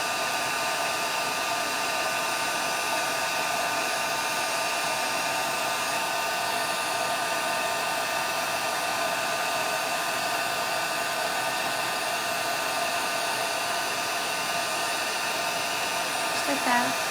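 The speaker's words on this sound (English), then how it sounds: "it's just going to magically melt the embossing powder" A craft heat tool melting embossing powder, a continuous loud blowing whir that holds steady and unbroken from start to finish.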